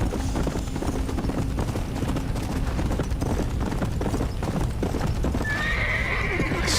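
Horse in Red Dead Redemption: Undead Nightmare gallops with rapid, steady hoofbeats that run throughout, joined late by a sharp neigh, with distant gunfire crackling underneath.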